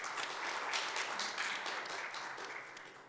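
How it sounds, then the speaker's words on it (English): Audience applause at a policy forum on Asia-Pacific nuclear non-proliferation and disarmament, a steady broad wash of many hands clapping that holds for about three seconds and fades slightly at the end. "Please give him big rounds of applause too"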